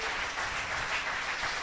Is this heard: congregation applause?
yes